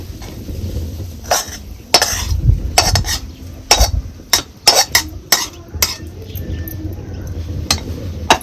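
Masala being stirred into unsalted mutton curry in a pot, with irregular scraping and clinking knocks of a spoon against the vessel over a low simmering rumble, close and moderately loud.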